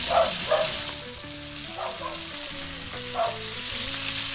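Food frying in a pan with a steady, close sizzle that stays loud throughout, with a few brief bursts of spattering and faint low tonal sounds underneath.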